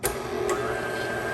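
An electric mixer whisks eggs, sugar and salt with a steady, close motor whir and a brief rattle at the start.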